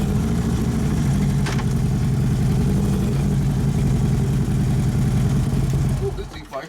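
A Harley Road Glide twin cam engine with a blown six-speed transmission runs loud and close with steady throttle, holding a throbbing rumble before dropping off near the end.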